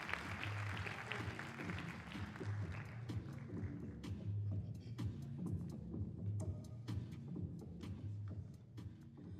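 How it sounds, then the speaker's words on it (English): Audience applause at a Women's Equality Day event, a steady spread of clapping that fills the whole stretch at moderate volume, mixed with low thumps and murmuring from the room. "Let's give them all a round of applause."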